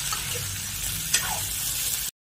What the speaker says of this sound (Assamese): লগভগ এইখিনি বহুত 5 মিনিটমান সময় ভাজিলোঁ।